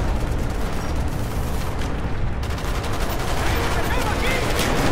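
Dense Call of Duty Black Ops gunfire rattles continuously in rapid automatic bursts, loud and close, with shouting voices mixed in over the shooting.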